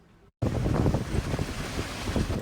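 Loud, continuous roaring Hurricane Ida wind in Louisiana with rushing, turbulent gusts after a brief silent gap, buffeting the microphone with no voices.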